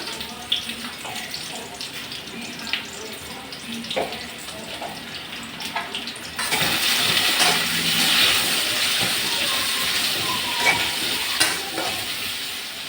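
Taro roots (kochu mukhi) fry in a pan with a little salt, a close, steady sizzle that grows louder and fuller about halfway through, with occasional stirring scrapes.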